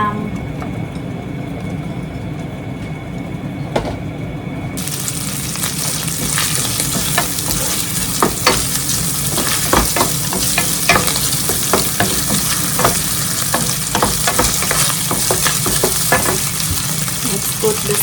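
Diced ham sizzling and frying steadily in a hot pan for carbonara, with occasional stirring scrapes, loud and close throughout.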